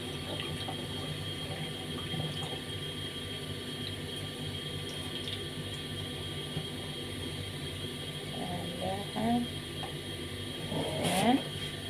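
Soaked rice for biryani being drained, with water trickling and splashing faintly against a steady background hum, rising to a few brief louder pours and clatters near the end.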